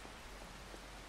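Steady rain in Farming Simulator 25, a soft even hiss falling across the whole stretch with no voices over it.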